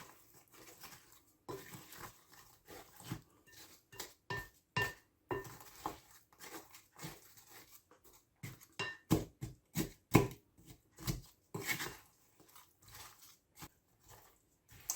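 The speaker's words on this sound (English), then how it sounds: "we're just going to give it a good old mix. Just make sure it's all coated with chocolate." Rocky road ingredients are stirred through melted chocolate in a bowl, irregular clinks and sticky knocks of a spoon against the sides, close and fairly quiet, coming in uneven bursts.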